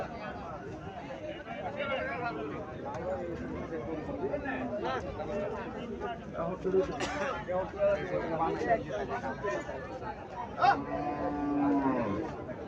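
A native cow moos amid a busy outdoor cattle market crowd, with many people chattering nearby and livestock sounds rising and falling across the scene.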